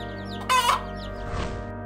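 A hen guarding her eggs gives a sharp, loud squawk, then lower clucking, while fighting off a cobra, heard close over a steady background hum.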